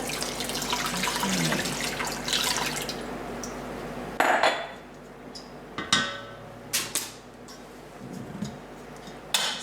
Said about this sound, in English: And then I'm going to add the water